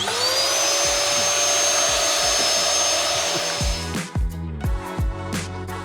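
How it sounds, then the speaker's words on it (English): A loud vacuum cleaner whines steadily for about four seconds, then shuts off and spins down, leaving clattering and knocking sounds behind. "a vacuum cleaner"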